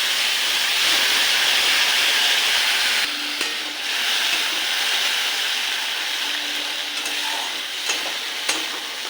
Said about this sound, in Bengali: এই তেলে দিয়ে দেবো কালো জিরে ফোড়ন আর দেব পোস্ত টমেটো কাঁচা লঙ্কা বাটা